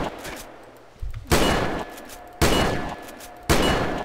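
Sniper rifle shots ring out in SAMP, a multiplayer video game. There are three loud, sharp shots at roughly one-second intervals, each decaying into a fading echo over a faint background.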